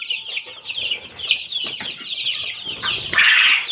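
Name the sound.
Sonali classic chicks, ten days old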